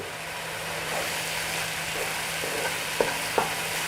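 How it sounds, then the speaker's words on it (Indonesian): Spice paste for Indonesian opor ayam sautéing in a pan: a steady, soft sizzle with a low hum underneath and a couple of sharp utensil taps near the end. "Ini kita tumis sampai matang bumbunya supaya tidak bau langu"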